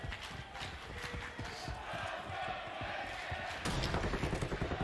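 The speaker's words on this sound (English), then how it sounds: "The crowd trying to ramp up Vegas." An arena crowd at a Call of Duty League event in Las Vegas cheers and stamps in a loose, rumbling roar, with thumps and a voice faintly mixed in, swelling slightly near the end.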